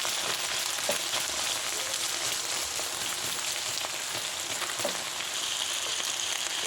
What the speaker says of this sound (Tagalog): Lagay natin yung ating chicken